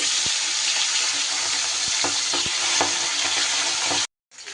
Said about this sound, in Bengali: এবারে এই টুকরো দুটোও ভেজে নেব।